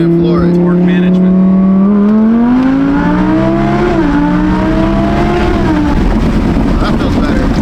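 A supercharged Audi R8 accelerates hard in second gear, its engine note climbing steadily in pitch, loud and close from inside the car, with people talking over it.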